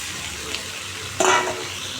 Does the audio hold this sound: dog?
no